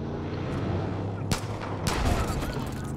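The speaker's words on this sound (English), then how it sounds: "Oh, he's pointing a gun. Oh, no. Oh, he's shooting at me." Enemy gunfire in a video game set in Hope County, a few sharp loud shots and cracks over a steady ambient rumble, with speech partly audible.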